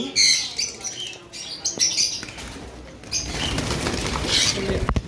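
Conure parrots kept in bonded pairs at a bird farm flap their wings and give scattered sharp squawks close by, with someone talking faintly in between.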